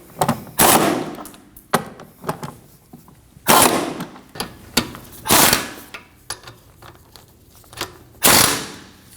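Bolts are tightened on the rear shock absorbers of a 2015–2024 Ford Edge with a ratcheting tool: close, rapid bursts of mechanical whirring and clicking separated by short pauses.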